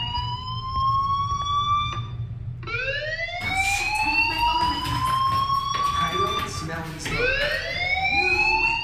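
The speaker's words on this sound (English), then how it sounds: "do you hear that fire alarm? That means you should be outside." A fire alarm sounds inside the Life is Strange video game, a loud wailing tone that sweeps up in pitch and repeats in several rising cycles, close and continuous throughout.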